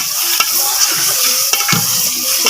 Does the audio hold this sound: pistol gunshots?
no